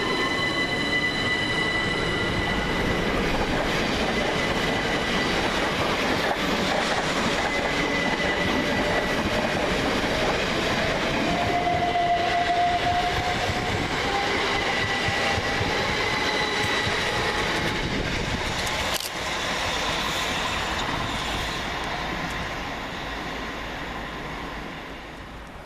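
Thameslink Class 700 and other electric trains pass through Anerley railway station, a loud continuous roar of wheels on rail with a brief high squeal midway, the rumble easing off toward the end.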